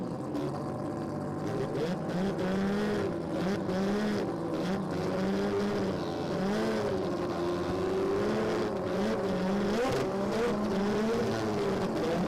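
Drag race cars at a street 289 event, one holding a line lock burnout: a loud, steady engine roar with wavering revving pitch and a tire squeal running under it, continuous throughout, with possible faint background voices.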